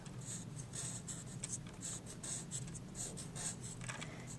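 Pen strokes on paper, drawn for a second-grade place-value math lesson, scratch out in a steady run of short, close, fairly faint bursts over a low room hum, with no talking.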